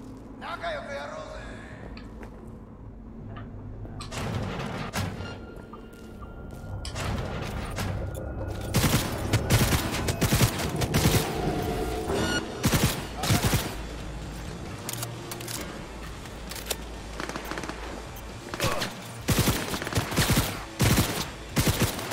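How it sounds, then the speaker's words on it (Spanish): Gunfire in the video game Cyberpunk 2077, dense bursts of rapid shots hitting several targets, loud and close, building after a quieter start and running under game effects and occasional talk. "Parece que ahora disparan a varios objetivos a la vez"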